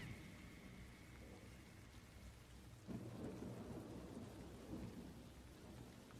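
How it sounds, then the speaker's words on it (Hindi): Heavy rain pours steadily in a forest while thunder rumbles low and continuously, with a deeper swell about halfway through. The whole scene is faint and distant. "जंगल में तेज बारिश हो रही थी, हर तरफ पानी की मोटी मोटी बूंदें गिर रही थीं।"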